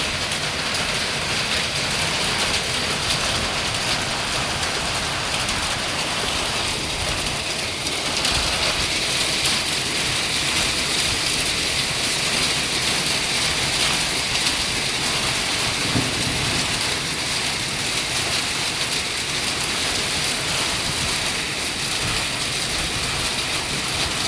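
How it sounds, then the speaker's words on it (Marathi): Heavy rain pouring down hard with rumbles of thunder, a loud, steady, dense roar that holds for the whole stretch with no voices. "कसा पाऊस पडतोय, त्याला जोर आलाय आज"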